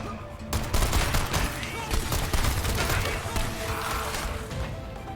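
Gunfire and bullet impacts in the Strider video game: a dense, continuous barrage of rapid shots and crashing hits, loud and steady throughout with no pause.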